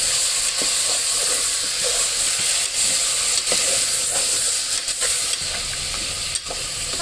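Mutton pieces tossed into frying onions in a pan for Kolhapuri mutton rassa sizzle loudly and steadily up close, broken by frequent scraping and clattering strokes of a stirring spoon, with no speech.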